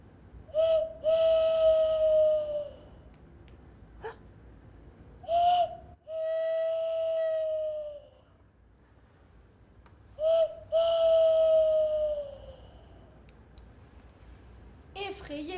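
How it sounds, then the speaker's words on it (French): Owl hoots in a dark forest, three long whistled calls spaced several seconds apart, clear and fairly close over quiet background. "Effrayé par le hibou"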